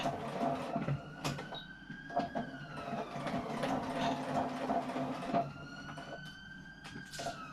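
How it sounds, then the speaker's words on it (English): A sewing machine stitches through several layers of fabric for a small hand sanitizer pouch, a quiet, steady rhythmic run of needle ticks and motor hum with rising tonal whirs. "I'm sewing through all the layers here"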